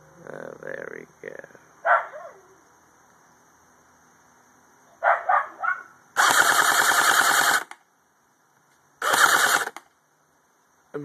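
A homemade airsoft gun fitted with a homemade scope fires bursts at a cardboard box, making rapid rattling volleys of about a second each, interspersed with short sharp noises and brief pauses.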